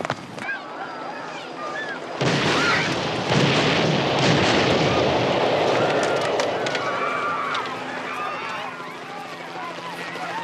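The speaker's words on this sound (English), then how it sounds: "There are explosions." Explosions rumble in a crime-drama action scene, heavy booms and crashing roar that hold loud and dense for several seconds before easing off.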